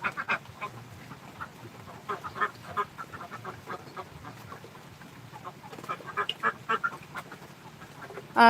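Ducks shut in a shed quack in a busy, overlapping chorus of close and farther calls, with louder bursts toward the end.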